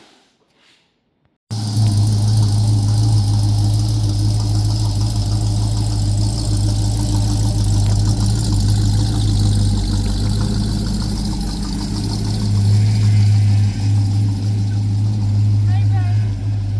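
A Ford Mustang engine hums with a steady, loud low drone while driving down the road, starting abruptly after a short quiet moment and holding constant throughout, with faint talk underneath.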